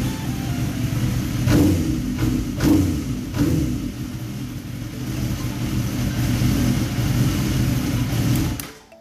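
A 2005 Suzuki GSX-R 1000 sportbike with an aftermarket exhaust idles close by, a steady mid-pitched engine rumble broken by a few short throttle blips, then cut off abruptly at the end.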